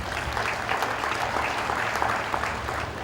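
Graduating students at an EDI convocation cheer and clap loudly and steadily, a dense crowd roar with sharp whoops poking through for several seconds.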